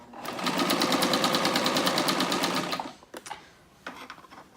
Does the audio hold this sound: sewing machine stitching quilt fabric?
yes